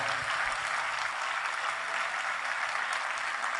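Audience applause for a music arranger and director at a live classic film music concert, a dense, continuous clapping from a large crowd that stays even and loud throughout, with no talk over it.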